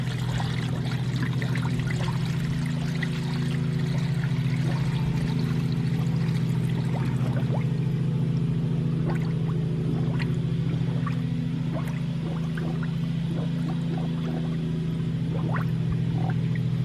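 Coolant from a 1991 Mercury Capri radiator pours steadily into a drain pan in one long continuous stream, over a constant low engine-like hum nearby.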